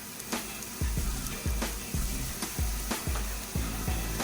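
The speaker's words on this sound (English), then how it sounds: "So now we're going to add a little bit of shallots" Shallots and garlic sizzling in a pan for a scallion and tomato risotto, a soft steady frying hiss broken by regular thumps and taps every half second or so, moderately quiet.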